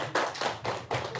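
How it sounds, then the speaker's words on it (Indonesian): A small group of people in an audience clapping their hands, four quick, moderately loud claps in an even rhythm within about a second. "Tepuk tangan dulu dong."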